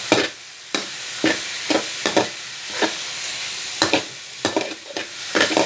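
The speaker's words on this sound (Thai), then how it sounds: "คนหมูทั่วกระทะครับ" Minced pork sizzles steadily with garlic in a hot wok, with repeated scraping clatters of a spatula stirring at an uneven rhythm, close up.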